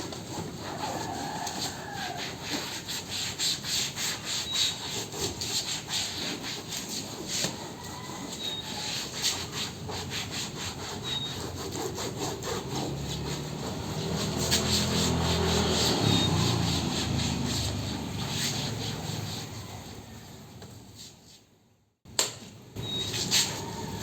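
An old seat cover on an ADV 160 scooter is wiped clean of dirt, a steady close rubbing and scrubbing that continues for most of the clip, then stops briefly with a short bump near the end.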